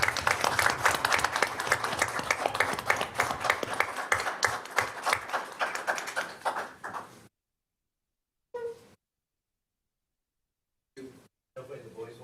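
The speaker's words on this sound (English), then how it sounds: "Give a round of applause." A room at a City of Franklin Common Council meeting breaks into dense, sustained applause after a presentation, loud and crowded for several seconds before tapering off, followed by silence with a few brief faint sounds.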